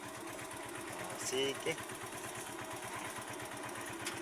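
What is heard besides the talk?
motorcycle engine running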